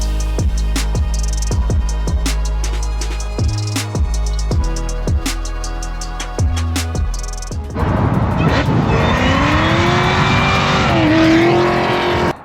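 Fox body Mustang with a Terminator swap and Kenne Bell supercharger, loud and close: a rapid run of engine revs and gear shifts, then a sustained full-throttle roar with rising supercharger whine.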